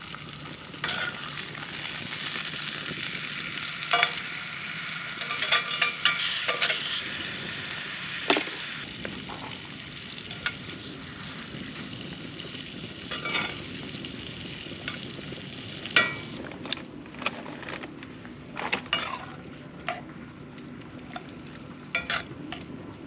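Steak sizzling and frying in plenty of butter in a pan at a camp setup, a steady close crackle with scattered pops and spatters, no voices.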